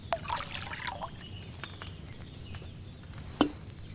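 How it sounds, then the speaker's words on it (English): Wine base poured from a pitcher into a cauldron in Kingdom Come Deliverance 2, a soft trickling, splashing stream, fairly quiet, followed by a faint clink and low room ambience. "First, you have to pour the right base into the cauldron."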